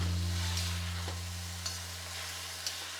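Beef being stir-fried with sauce in a wok, a steady close sizzle under a low kitchen hum, with a couple of brief tossing scrapes.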